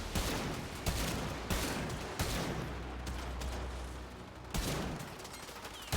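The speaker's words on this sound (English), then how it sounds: "Look at the bullets go!" Rapid bursts of gunfire and weapon shots from the Warframe video game, repeated sharp cracks over a constant dense low rumble of combat noise.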